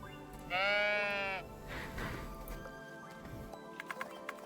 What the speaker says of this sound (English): Is the sheep trying to get in?